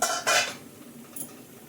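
A spoon clinks and scrapes against a metal pot of boiling potato slices twice, brief and close, followed by a quiet lingering hiss.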